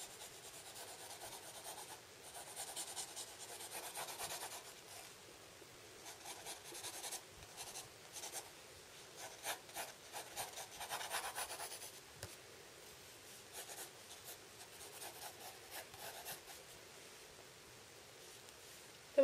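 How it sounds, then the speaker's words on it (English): A pencil scratches and rubs across paper while sketching a manga character's hair, in soft, close strokes that come in uneven bursts with brief pauses. "then we're just going to draw a little bit of a sketch of the hair"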